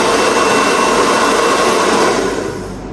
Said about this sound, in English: Let me be safe and use my dryer to dry it a little bit